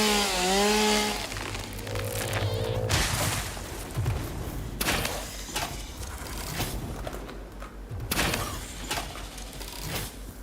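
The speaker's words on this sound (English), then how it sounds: "If you had the chainsaw out, you could only chainsaw." A chainsaw in the Satisfactory video game whines and revs loudly in bursts, with chopping crashes amid game music and effects.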